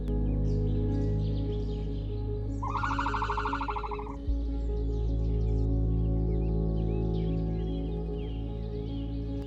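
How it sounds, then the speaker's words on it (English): Birdsong fills a flowering valley with many overlapping chirps and trills, plus a brief loud, rapid warbling call near the start, over a steady low background hum. "the valleys are filled with the sound of birdsong"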